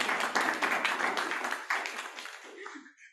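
Audience applause at a networking event for introverts, honoring a woman named Jessica; dense clapping that fades out toward the end.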